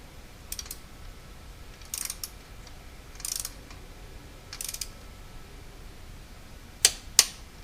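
A torque wrench clicks in short, separate bursts while intake manifold bolts on an Aston Martin DB9 are tightened, with about six sharp ratcheting snaps spread over several quiet seconds, the last two louder and closer.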